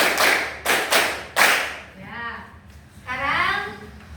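Students in a classroom clap in unison as a counted group, three quick bursts of claps at the start, then a voice speaks over a quieter background.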